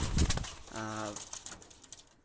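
Pakistani high flyer pigeons give a short, close cooing call lasting about half a second, with faint rustling and a soft voice in the background.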